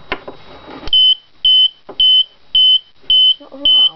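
A homemade fire alarm buzzer sounds six loud, evenly spaced electronic beeps about half a second apart, after a brief voice and handling noise at the start.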